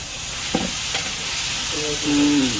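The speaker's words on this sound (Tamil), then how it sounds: "நல்ல ஒரு பொன்னிறமாக வர மட்டும் பிரியாணி கிண்டணும்" Fish biryani is stirred in a large pot, with close scraping strokes over a constant oily sizzle and a few metallic clinks toward the end.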